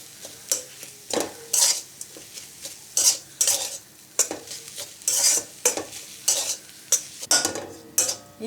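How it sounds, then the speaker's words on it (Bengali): Chopped coriander being stirred into a potato filling for aloo paratha in a pan, with repeated scraping strokes of a utensil against the pan in a steady rhythm over a faint sizzle, close up and without speech. "এইভাবে একটু মিশিয়ে নিতে হবে সব কিছু।"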